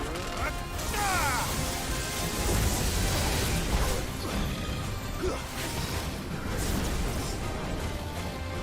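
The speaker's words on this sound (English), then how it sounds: "Hit him with another storm." A storm spell in Final Fantasy 16 cracks with thunder-like booms and crashing impacts amid dense, noisy battle effects that stay loud throughout the clip.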